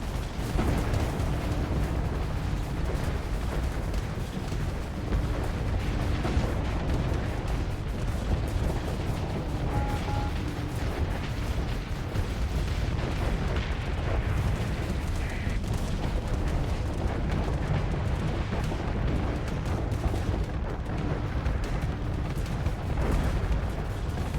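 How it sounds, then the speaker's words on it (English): Nova Cannon shots booming during a Starsector 0.98a battle with the Imperium of Man mod, a continuous low rumbling roar of heavy weapon fire and explosions layered throughout the fight. "The first battle I've used all my Nova Cannon shots"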